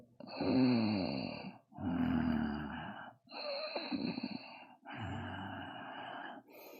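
Four long, rasping exhalations follow one another in a Tao breathing exercise, each a loud, close, throaty breath with short pauses between, no words spoken.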